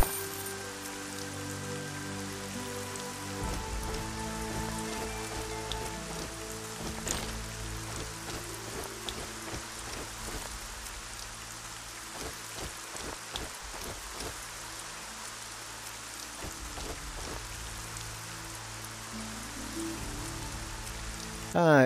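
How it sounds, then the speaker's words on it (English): Steady rain falling across a landscape in the video game Arcania on PS5, a constant hiss of drops on surfaces with scattered closer pattering and no voices. "there's a weather system as well, like, it is pretty much just rain on, rain off"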